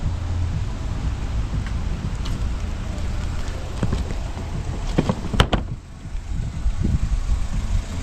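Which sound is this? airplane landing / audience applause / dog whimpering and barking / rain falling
rain falling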